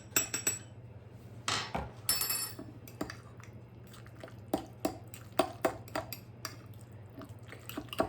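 Spoon clinking and scraping inside a mug while stirring oil into a milk-soaked pizza mixture, a series of sharp light taps and knocks at an irregular rhythm, close and fairly quiet.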